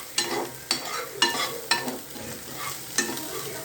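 Spoon stirring a frying mixture with chilli and coriander in a pan, giving five or six distinct scraping strokes at an uneven rhythm over a steady low sizzle, close and fairly quiet.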